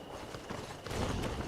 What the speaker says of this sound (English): Your horse thing there sounds pretty scary.